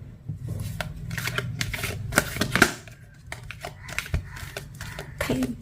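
A deck of tarot reading cards is shuffled by hand, producing repeated crisp riffling and flicking bursts for several seconds, up close and fairly loud.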